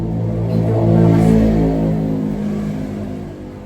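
A nearby motorcycle engine revs up, its pitch rising then falling as it winds down, loud and close with no talking.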